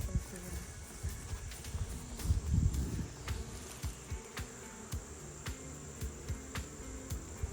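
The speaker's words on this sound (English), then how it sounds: "I stuck the camera really close to the hive because you can really hear the buzzing" Bees buzz at close range by the hive, a soft continuous hum with faint clicks and handling rustles throughout.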